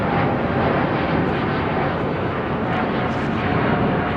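Airbus A350 jetliner taking off at London Heathrow, a steady broadband rushing engine roar, smooth and unchanging, heard at moderate loudness from a distance without voices.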